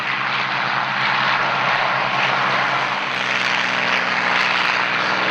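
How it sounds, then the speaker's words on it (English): Historic propeller warbirds flying at the Flying Legends airshow, including a Hurricane, a B-25 and an A-26 Invader, a loud, steady engine drone overhead that holds throughout with no talk. "Historic aircraft collection, Hurricane. The Dutch B-25. A-26 Invader, they will be forming up."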